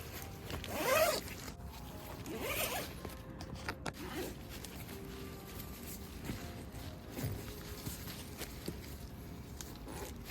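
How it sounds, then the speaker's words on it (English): A side zipper on a Vaude Bivi 1P bivy bag is opened and closed in a few quick, raspy pulls near the start, then softer fabric rustling and handling noises follow, all quiet and close. "It's a side zipper, which also is better, I think."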